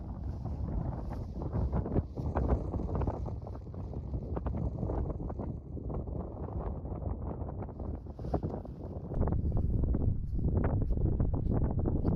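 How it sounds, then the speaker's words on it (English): Wind rushes across a small hilltop in the Highlands in winter, buffeting the microphone in a steady low roar that swells louder near the end. "It's windy up here."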